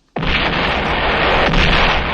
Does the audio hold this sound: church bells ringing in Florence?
no